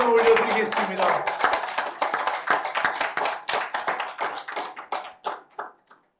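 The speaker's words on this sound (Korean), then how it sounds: "우리의 왕께 손뼉 치며" A worship congregation claps hands together in a steady rhythmic beat, many palms striking at once, the clapping thinning and fading out toward the end.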